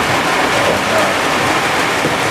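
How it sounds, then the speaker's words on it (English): Steady, dense rain hisses loud and close beside a highway during corn planting. It is a continuous broadband wash with no gaps and no voices. "It's raining out."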